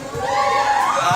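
A crowd at a volleyball tournament opening ceremony, many young voices shouting and cheering together in one loud sustained burst, close and energetic.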